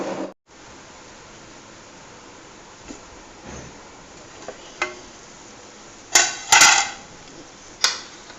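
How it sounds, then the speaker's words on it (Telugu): A metal lid settles onto a cooking pot with a cluster of sharp, close clanks and rattles, followed by one more clink, set against quiet kitchen background. "మూత పెట్టేస్తాను"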